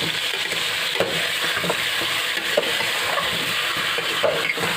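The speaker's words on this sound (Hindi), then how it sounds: "ये जो चिकन का एक पीस है ये अच्छे तरीके से हम लोग फ्राई कर पाएँ" Chicken pieces fry with a steady broadband sizzle in a karahi, punctuated by occasional soft scrapes and clicks as they are stirred; close and continuous, with no talking.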